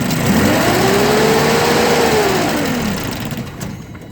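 A Mitsubishi forklift engine with an air/fuel fault revs up sharply and runs rough, a loud uneven roar that rises and falls over a few seconds before fading as it nearly stalls, with no talking.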